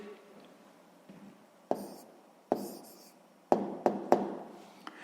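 A pen writes the answer to a sixth-grade maths exercise on paper, soft scratching strokes followed by several sharp taps and short bursts close to the microphone, with no talking.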